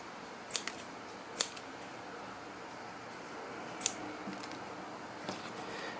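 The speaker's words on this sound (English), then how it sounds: "I can do multiple cuts also if you want to cut two threads" Fitcut curved scissors snip through two threads, giving a few quick, sharp clicks spaced apart over a quiet background, with no one talking.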